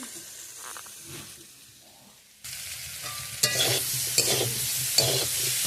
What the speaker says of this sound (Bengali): এবারে ভেজে নিচ্ছি